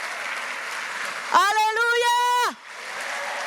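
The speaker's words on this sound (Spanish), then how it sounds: "Dale un fuerte aplauso de verdad, verdad." A church congregation applauds under a loud shout from a woman preaching, the clapping a steady wash before and after her voice.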